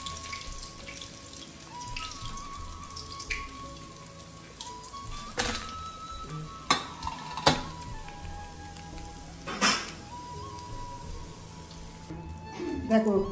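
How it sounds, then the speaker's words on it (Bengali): Bamboo-leaf fish frying in hot oil gives a steady, dense sizzle throughout, broken by a few sharp crackles and pops, with faint clinks and murmured voices in the background. "আবারও ভাজা হয়ে গেছে, এবার তুলে নিচ্ছি, একটু তেলটা ঢেলে নেব।"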